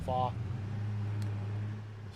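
A truck in Farming Simulator 22 runs with a steady low engine drone, opening with a brief rising whine from an automatic gear change, then a lone faint click midway while the motor hums on evenly.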